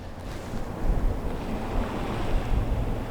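Sea waves wash onto a beach in a steady low rumbling surge, with wind buffeting the microphone and no voices.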